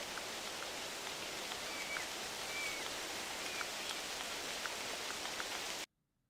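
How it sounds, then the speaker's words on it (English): Steady, dense rain pours down in theHunter Classic, a continuous hiss of drops on surfaces with faint scattered patters, holding at even loudness before cutting off abruptly near the end. "Man, that rain is loud"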